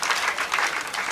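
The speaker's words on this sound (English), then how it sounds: "you clap for Mr. Matov" An audience at a Nabumali High School celebration of UCE results gives a short burst of dense, steady hand clapping from a crowd. Faint talk sits underneath.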